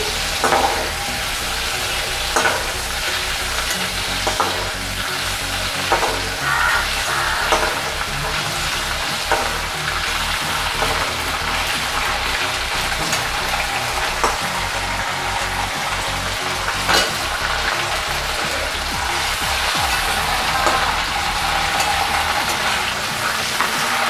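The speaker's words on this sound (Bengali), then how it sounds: "অল্প ভেজে নিয়ে চিংড়ি মাছগুলো তুলে নেব" Prawns lightly frying in oil, a loud, dense sizzle that crackles steadily for the whole stretch, with occasional stirring scrapes and pops close by.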